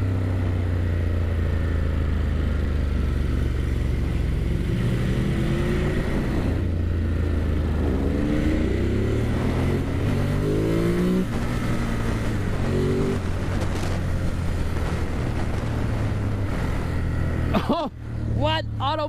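A Ducati Monster 1200S motorcycle engine revs while being ridden, its pitch rising and falling through gear changes and throttle blips, loud and sustained under wind noise.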